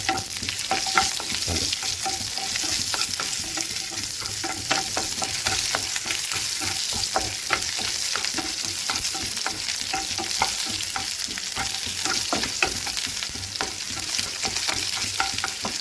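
Shallots sizzle steadily in a hot pan for moringa soup while a utensil stirs and scrapes, with repeated clicks against the pan throughout.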